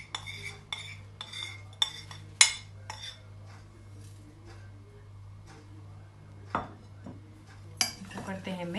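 Spices being mixed for aloo chaat in a bowl, with a spoon clinking and scraping against the dish in a run of sharp taps, then quieter stirring and a few more clinks, close by over a steady low hum.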